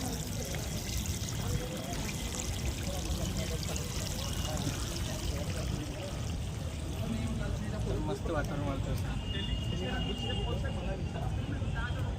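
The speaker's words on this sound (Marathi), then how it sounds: "हे पाणी तलावाच येतो मित्रांनो" Lake water used for washing feet pours and splashes continuously at close range, a steady rushing flow with faint voices in the background.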